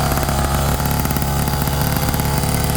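A Taylor RC 80cc Supreme petrol engine fitted to a Raminator RC truck runs loud and close, with a steady, buzzing, rough two-stroke drone and no voices.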